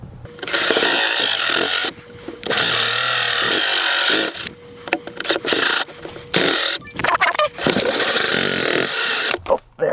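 A drill cuts a hole through a travel trailer wall during an RV power inverter install, loud grinding bursts that stop and restart several times, with brief gaps between runs.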